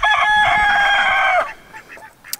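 A rooster crows once on a homestead where quail and chickens are kept, a loud, close, drawn-out call lasting about a second and a half before fading into quiet yard ambience.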